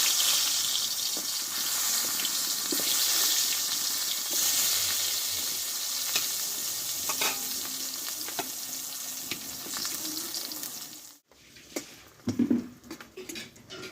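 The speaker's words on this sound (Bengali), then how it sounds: "বাকি বেগুনগুলো আমি এই তেলে ভেজে নেবো" Eggplant pieces fry in hot oil for a vegetarian Bengali-style eggplant dish, giving a steady, close, dense sizzle that fades out near the end, followed by a few light clinks.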